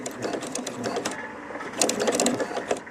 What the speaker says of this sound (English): I gotta get that pin out before I sew over it and break my needle, ruin my machine